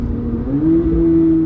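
A C8 Corvette Z06 engine revs up close, its low growl rising in pitch and holding a steady high drone, loud and alone with no talk.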